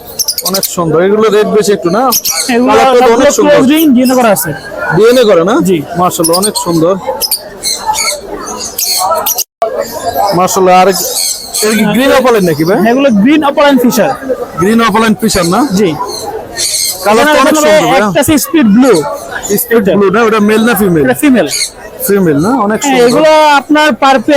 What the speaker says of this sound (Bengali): অনেক সুন্দর পাখিগুলো দেখতে পাচ্ছেন ভিউয়ার্স